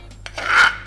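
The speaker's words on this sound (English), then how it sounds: "Scrape it out" Dumpling filling paste being scraped out of a container into a bowl: one short, close rasping scrape that swells and fades within a second, with no talking.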